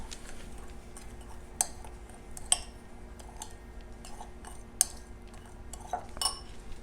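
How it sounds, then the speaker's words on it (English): Metal spoon scooping apple pie filling onto pastry bites, giving scattered light clinks and taps against a dish over a quiet room hum, close by with no talk. "We're going to put a little bit of that on each using that spoon."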